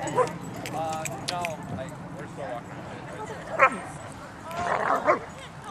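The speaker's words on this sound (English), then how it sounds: "Look at all the dogs, Kaleigh." Dogs at a dog park bark and yip intermittently at moderate distance, with a few sharper barks standing out, while people talk nearby throughout.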